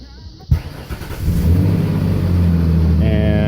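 A Ford Ranger 4.0 pickup truck cranks with a sharp click and then catches. The engine settles into a steady, low, loud idle that lasts to the end.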